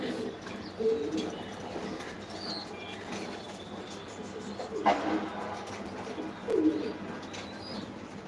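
Racing pigeons in a loft coo softly amid a low background hum, with a few louder flutters and calls at intervals; no one talks.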